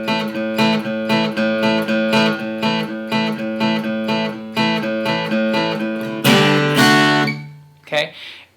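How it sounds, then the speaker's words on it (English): An acoustic guitar plays the intro of a song in clear, evenly spaced strummed chords with a steady beat, then finishes with a louder, fuller strum that rings out and fades, followed by one short closing hit. "All together it sounds like this."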